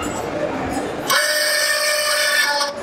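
Click N Go 2 snow plow blade lifting on its mount: a steady, loud electric-hydraulic motor whine starts abruptly about a second in and runs evenly close by, following a noisy rumbling start, then drops off at the end.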